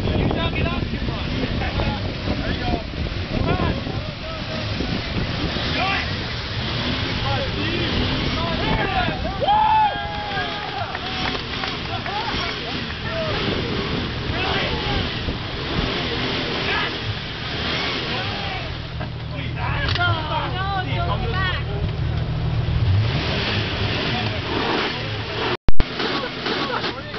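A boat's steady low engine drone rumbles throughout, close and loud, its exhaust harsh, with wind buffeting and people talking over it.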